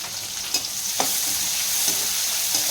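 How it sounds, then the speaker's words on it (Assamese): Onions fry in a pan, browning for a simple dinner dish with fish, giving a steady close sizzle broken by a few soft stirring scrapes. "পিঁয়াজখিনি অকণমান ৰঙাকৈ ফ্ৰাই কৰি লওঁ আগত"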